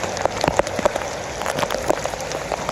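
Heavy rain shower pouring down at a beach, a dense steady hiss of drops with scattered sharper splashes and patters close by, continuous and fairly loud with no voices.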